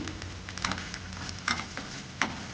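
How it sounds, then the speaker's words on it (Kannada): Coriander seeds and a sprig of curry leaves sizzle steadily in hot oil, with a soft continuous hiss broken by a few sharp pops and spatters, close and moderately quiet with no talking. "ಎರಡು ಟೇಬಲ್ ಸ್ಪೂನಷ್ಟು ಕೊತ್ತಂಬರಿ ಹಾಕಿ ಕೂಡ ಇದನ್ನು ಫ್ರೈ ಮಾಡಿ ಒಂದು ಗರಿಯಷ್ಟು ಕರಿಬೇವು ಕೂಡ ಹಾಕ್ಕೊಳ್ಳಿ"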